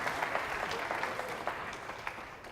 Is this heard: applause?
yes